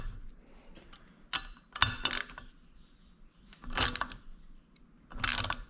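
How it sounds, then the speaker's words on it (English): Ratchet wrench tightening a bolt during an engine build, short bursts of rapid clicking in about four separate strokes, close and fairly quiet, with pauses between them. "Yeah, I'm gonna have to tighten this down a little more."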